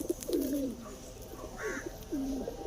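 A pigeon, a good breeding female kept for pigeon flying in Nagpur, coos softly in a few low rolling phrases against faint background noise.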